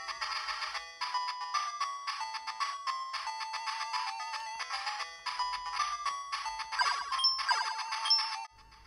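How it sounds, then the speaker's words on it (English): Batman game music plays from a Sega Game Gear title running on an Anbernic RG28XX handheld: a bright, tinny chiptune melody of quick repeating beeps in steady phrases, alone and fairly clear, cutting off abruptly at the end. "Now this is Batman on the Sega Game Gear"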